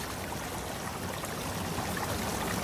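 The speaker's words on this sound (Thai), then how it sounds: "คลองน้ำไหลลงไปเลยทีนี้" Rainwater runs like a stream through a flooded vegetable garden after weeks of rain, a steady broadband rush and trickle that holds even and close throughout, with no voices.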